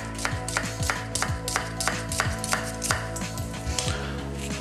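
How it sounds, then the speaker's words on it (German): A knife chops onions finely on a cutting board in quick, regular thuds, about two per second, close and crisp, each strike ringing briefly. "Das heisst, möglichst fein schneiden."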